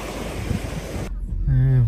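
Flood water surges through a broken bridge in a village near Kulsary with a loud, continuous rushing roar. The roar cuts off after a second, and a voice follows over a quieter background.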